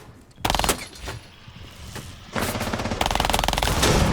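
Rapid gunfire in a competitive video game match, with bursts of automatic shots that start abruptly and then return as a sustained, loud volley toward the end.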